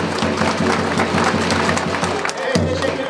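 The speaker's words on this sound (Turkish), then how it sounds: "Şöyle yüksek bir alkış yapalım" Loud crowd applause at a sheep-shearing festival in Beytüşşebap, dense and sustained with cheering and crowd noise mixed in, a brief dip near the end before clapping swells again.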